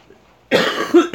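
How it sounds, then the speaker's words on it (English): A single short cough after a moment of quiet, close and fairly loud, followed by a brief second burst like a throat-clearing tail. "my cough is still bothering me"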